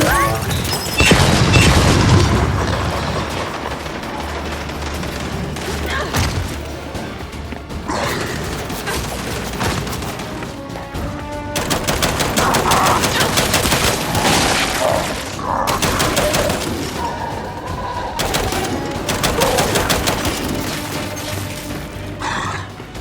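Gears 5 combat with heavy booming grenade blasts and crashes over dense, sustained gunfire, loud and continuous throughout with brief lulls between bursts.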